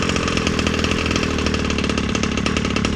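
A Rovan 36cc Victory big bore engine roars steadily through its exhaust pipe, a loud, continuous buzzing drone with rapid firing pulses and no pauses, close up and alone.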